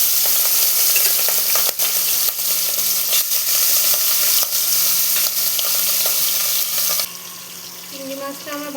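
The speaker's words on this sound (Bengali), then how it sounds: "চিংড়ি মাছগুলো আমি ভেজে নিচ্ছি।" Prawns frying in hot mustard oil in a wok give a loud, steady sizzle and crackle throughout, with brief stirring clatters and a softer, calmer stretch near the end.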